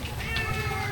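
A hungry street cat meows close by, a short plaintive call standing out over steady low background rumble from the roadside.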